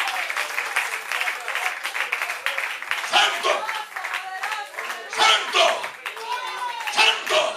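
Congregation applauding and clapping at a church worship service, steady crowd clapping throughout with voices chanting and calling out over it, swelling in bursts toward the end.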